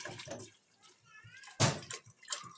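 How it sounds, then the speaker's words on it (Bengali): Water pours into a pressure cooker holding chana dal for a vegetarian dal, close and splashy, with a loud gushing surge partway through and softer trickles around it, while someone talks over the pouring. "জল দিয়ে দিচ্ছি।"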